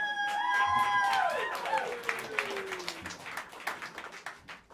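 Scattered clapping from a jazz club audience at Smalls rises under a sung or drawn-out voice, then continues as loose, uneven claps that gradually thin out.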